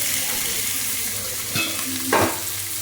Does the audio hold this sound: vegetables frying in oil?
yes